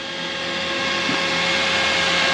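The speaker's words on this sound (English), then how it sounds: "Right there, what you hear is my Thunder Max cooler fan," Oil cooler fan, a Thunder Max unit blowing onto the oil cooler of a Harley-Davidson motorcycle with a big bore kit, makes a steady whooshing whir with a faint tonal hum, constant and fairly close throughout.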